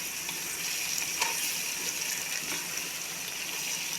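Carrots and potatoes fry together in a pan for chicken stew, giving off a steady, even sizzle throughout with no talking over it.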